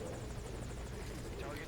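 Helicopter from Metal Gear Solid V: Ground Zeroes, a steady chopping rotor drone with engine whine running underneath continuous talk.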